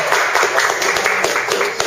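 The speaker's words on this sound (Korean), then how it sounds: "박수 한번 주세요." A crowd applauds steadily for a couple of seconds, a dense patter of many hands clapping at once, fairly loud and close.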